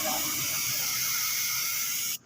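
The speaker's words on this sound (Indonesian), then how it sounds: "Ini kita semprot cat dasarnya terlebih dahulu." Spray gun laying down thin coats of primer on a Honda Beat motorbike, working from the rear: a steady, loud, continuous airy hiss that runs unbroken before cutting off abruptly at the end.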